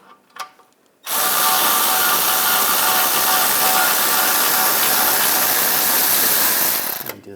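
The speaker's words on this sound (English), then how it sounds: "use a triple square socket. It's a M14. Take that bolt out." A power tool drives a triple square M14 socket to remove a wheel bearing bolt on a 2009-2017 Volkswagen Tiguan, a loud continuous whirring rattle lasting about six seconds after a few faint clicks, close and alone.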